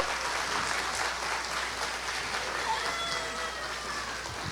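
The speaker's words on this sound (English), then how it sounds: "Now, wonderful, great, big round of applause to our teachers also." Steady, dense applause from an audience at a school annual day celebration honoring the teachers, a soft, even wash of clapping heard from some distance without speech.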